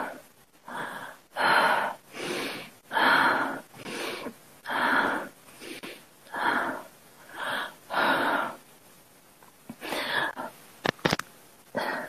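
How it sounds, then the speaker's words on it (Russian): A woman takes deep, rhythmic breaths in a guided breathing exercise during an online therapy session, roughly a dozen close, loud inhale-exhale cycles with no talk over them. "Дыши глубже."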